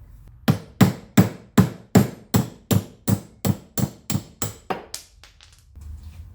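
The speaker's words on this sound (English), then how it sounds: "just take your hammer and hammer it out" A hammer strikes a socket to drive the centerpiece out of a Honda Civic rear camber arm: about fourteen sharp metallic blows in a steady, evenly spaced rhythm, close and loud, weakening slightly toward the end.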